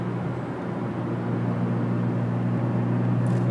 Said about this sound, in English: This car really sounds good for the V6.